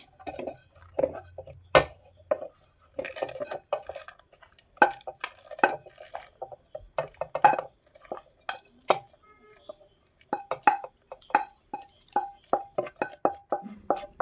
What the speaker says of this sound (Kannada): ಈಗ ಇದನ್ನು ಸ್ವಲ್ಪ ತಣ್ಣಗಾಗಬಿಟ್ಟು ಇವಾಗ ಮಿಕ್ಸಿ ಜಾರಿಗೆ ಹಾಕ್ಕೊಳ್ತಾ ಇದ್ದೀನಿ